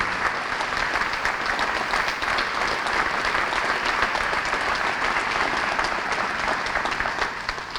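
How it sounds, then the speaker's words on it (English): Steady applause from a large crowd at an elementary school building dedication, continuous and even throughout, with no break in the clapping. "I'd like a round of applause."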